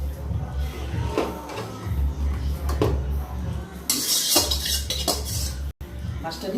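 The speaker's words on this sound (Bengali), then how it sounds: "মাছটা ঢেলে নিচ্ছি।" Cooked pabda fish curry in a spicy mustard-paste gravy is poured and scraped out of a metal pan into a dish, with clattering cookware and utensil scrapes that come in bursts, close and moderately loud.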